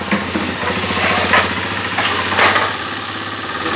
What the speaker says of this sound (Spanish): Le vamos a regular un poquito el ralenti.